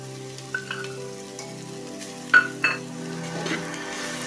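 Grated fresh coconut and sugar are stirred in a pan over high heat for a rice dish. A soft scraping, sizzling texture is broken by a few sharp clinks of a spoon against the pan.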